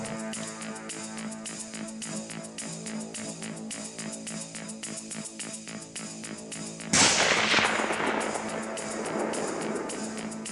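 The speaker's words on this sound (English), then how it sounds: "Oh my gosh, I just shot Kung Fu Grip." A single rifle shot at a nine-point buck during a rut hunt in North Carolina cracks out sharply partway through, with a lingering echoing decay, after a quiet stretch of steady outdoor background.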